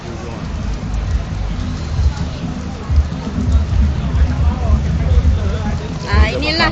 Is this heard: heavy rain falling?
yes